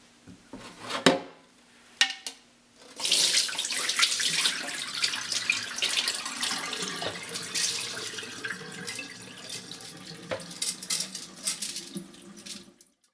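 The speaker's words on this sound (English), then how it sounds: "now we need to drain the water from the rice" Soaked sushi rice is drained of its water, beginning with a couple of sharp knocks before a steady rushing pour starts and runs on for about ten seconds, close and fairly loud, with no talk.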